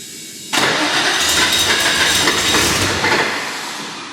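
Aircooled 600hp Porsche 964 Turbo engine in an RWB 911 cranking with its injectors switched off, a loud, steady churning roar that starts abruptly, holds for a few seconds, then eases off near the end.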